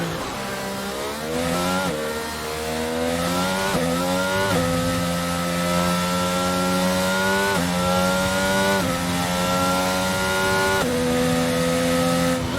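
A Formula 1 race car engine in the F1 22 game screams at high revs on the Miami circuit, with steady rising and falling gear-change sweeps, loud and continuous with no talk.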